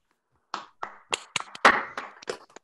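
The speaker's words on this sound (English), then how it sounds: "And while you are seating, a round of applause." A small online audience at a 2020 spring engineering induction ceremony claps over unmuted connections, giving scattered, uneven bursts of hand claps and taps spread across a couple of seconds rather than a unified round.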